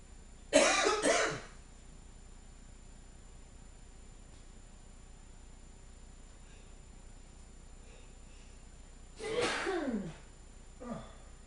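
A man sneezes twice, once near the start and again near the end, each a sharp close burst with a short trailing breath, separated by quiet room tone.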